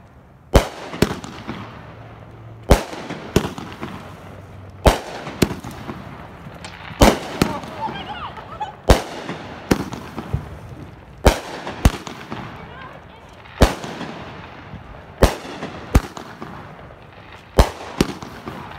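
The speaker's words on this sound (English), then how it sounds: "We just got done with fireworks" New Year's Eve fireworks going off at night: loud, sharp bangs and firecracker pops repeat roughly every second or two, some echoing, with faint crackle between them.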